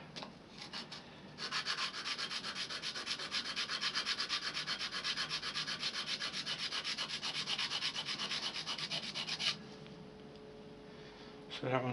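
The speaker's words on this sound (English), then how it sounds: "So that one's all sanded down to the brass now." A turned pen with a painted, glue-coated finish is sanded down to the brass tube on a lathe. A steady, rhythmic abrasive rubbing runs for several seconds and then eases off, with a voice speaking faintly around it.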